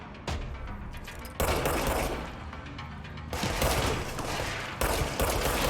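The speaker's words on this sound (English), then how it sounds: "I love being able to fire through the walls like that" Bursts of rapid, loud gunfire fired through walls in the video game Control come in several sustained volleys with short gaps between them, close and harsh, with no talking.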